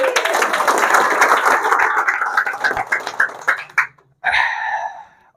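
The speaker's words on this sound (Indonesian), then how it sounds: "beri aplaus dong" Audience applause at a sharia business marketing seminar led by Coach Maskur, a dense, steady clatter of clapping for about four seconds that cuts off abruptly, followed by a short burst of voices.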